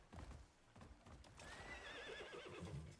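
Horse sounds in the Crimson Desert video game: clip-clopping hooves at the start, then a loud, drawn-out whinny with wavering pitch over continued low hoof thuds.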